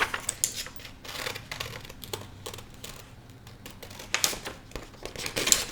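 Scissors snip through paper in a quick run of crisp, irregular cuts, with faint crinkling between snips; close and fairly quiet, no talking.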